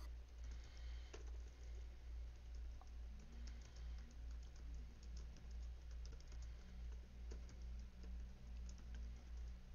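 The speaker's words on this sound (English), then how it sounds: "I was typing in the chat there" Quiet typing on a computer keyboard during a draft podcast, faint irregular key clicks over a steady low hum with no talking.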